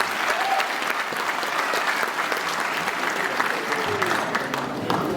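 An audience at a live concert in Hastings, New Zealand claps loudly and continuously, a dense wash of applause from a large crowd lasting the whole moment, with faint cheers mixed in.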